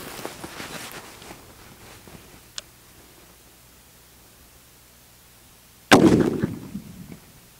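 A Springfield Trapdoor Model 1884 rifle fires one loud, sharp shot outdoors near the end, its report decaying over about a second after a long stretch of quiet ambience and a faint tick.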